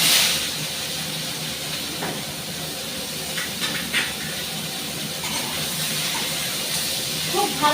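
Panch phoron spices hit hot oil with a continuous close hiss and sizzle, and a few faint voices and clatters sound beneath it.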